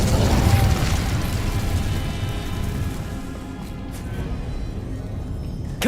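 An Incendio fire spell cast in Hogwarts Legacy gives a dense, loud roaring whoosh that bursts at the start, then settles into a sustained rumbling crackle before a brief flare at the end.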